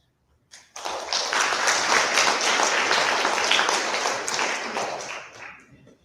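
A conference audience at a youth leadership event breaks into applause for the speakers: dense, loud clapping from many hands that starts abruptly, holds steady for about five seconds, then thins and fades.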